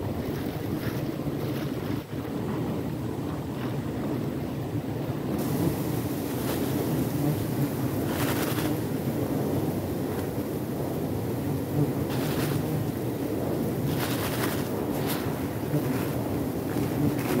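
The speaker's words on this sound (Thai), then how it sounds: "ลมแรงนะครับระวังไฟด้วยนะครับ" Strong wind roaring steadily through a forested valley during a wild giant honeybee hive harvest: a loud, continuous rush with microphone buffeting throughout and no speech.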